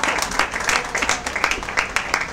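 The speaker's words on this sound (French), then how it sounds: "Applaudissons comme il se doit" Dense, continuous applause from an audience at an awards evening honouring Congolese actors, many hands clapping together at close range throughout.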